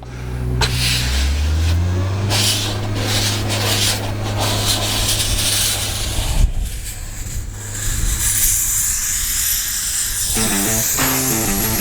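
Sandblasting on an airport runway surface at St Helena Airport, a loud continuous abrasive hiss and rush close by that holds steady for the whole stretch, changing tone partway through, with no talking.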